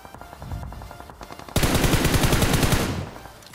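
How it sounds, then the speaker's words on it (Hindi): Rapid automatic gunfire from a battle royale shooter game, a quieter burst of shots followed by a loud, sustained stream of rapid rounds for over a second before cutting off. "अब मैं उस बंदे के ऊपर यहाँ पे थोड़ा सा फायर लेता हूँ"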